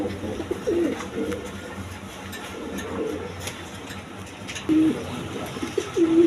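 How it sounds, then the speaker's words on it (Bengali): Soft coos from fancy pigeons for sale, including Jacobins, rise a few times over a low background hum, brief throaty murmurs spaced apart with quiet stretches between. "তার ছাড়া আরও অন্য অন্য কবুতর আছে"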